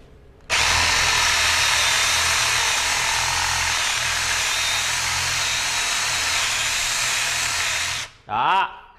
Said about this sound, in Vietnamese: mình lấy cái mũi khoan lớn mình khoan cho anh em ha, để mình test cái lực của nó luôn